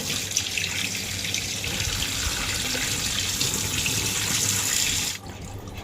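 Tap water runs steadily into a bowl of chicken set to soak, a close, continuous rushing gush that cuts off abruptly near the end.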